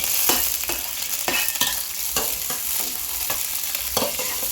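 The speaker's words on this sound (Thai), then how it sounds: "ตั้งไฟ ให้น้ำมัน เดือดก่อนนะครับ ร้อนก่อน ค่อยเอาพริกกระเทียมลงไปเดือดยัง เอาพริกกระเทียมลงไปเลย" Chili and garlic hit hot oil in a Thai home kitchen, giving a loud, continuous sizzle broken by regular scraping strokes of a spatula as the pan is stirred.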